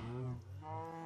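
A Minecraft cow lets out a short, low moo with a slight pitch dip midway, heard alone at moderate volume in a blocky farm setting.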